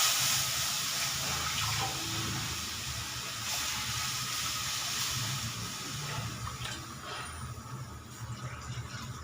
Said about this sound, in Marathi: नंतर याच्यात पाणी टाकायचं